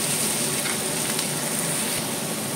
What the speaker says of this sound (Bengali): এবার সব ভালো করে ভেজে নেবো